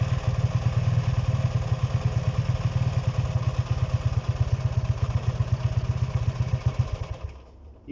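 A Honda CB125 RS motorcycle engine with a suspected wiring fault runs with a fast, even, throbbing beat close by, then sputters and drops off near the end.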